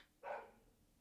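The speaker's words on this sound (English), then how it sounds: "this dog is really barking really loud today" A single dog bark sounds faintly out by Lake Mead, one short sharp yelp against a quiet background.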